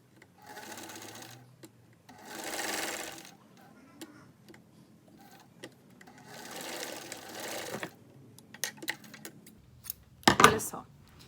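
A sewing machine stitches dish towel fabric, a heart-shaped piece, in three short whirring bursts separated by pauses. Light clicks and handling noises fill the gaps, ending in a louder clack.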